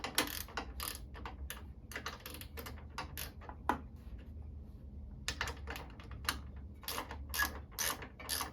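A ratchet tightens exhaust bolts on a 2022 CFmoto 650 Adventura motorcycle, giving quick clicking strokes in short bursts with a brief pause midway, close but fairly quiet.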